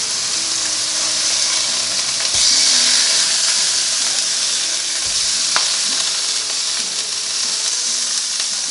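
Turkey burgers sizzling loudly and steadily inside a NuWave Primo grill oven, a constant close hiss with a couple of brief clunks as the patties are flipped, no voices.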